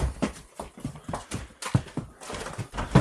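Horses let out of a barn on a cold winter morning, their hooves thudding and clopping irregularly at close range, with shuffling and bumping noises mixed in.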